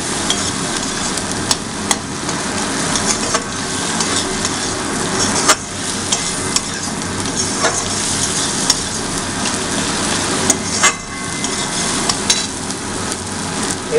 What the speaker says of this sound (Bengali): নিয়ে এবার জিনিসটাকে ভালো করে মিক্স করে দেওয়া হচ্ছে।